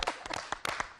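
Brief studio applause on the Télé Congo show Studio 210: a few scattered, uneven claps from a small audience, fairly near and moderately loud.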